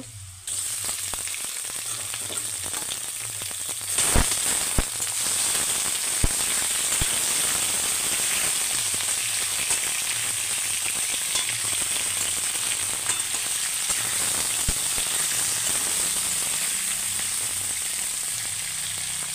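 Broiler chicken pieces frying with browned onions in a pan, a loud continuous crackling sizzle with scattered sharp pops and clicks, close up with no talking.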